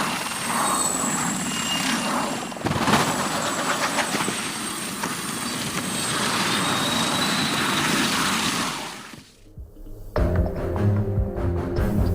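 A Puma helicopter's rotor and engine roar steadily for several seconds, then the noise cuts out abruptly as it crashes into the ground, giving way to a low, rumbling clatter.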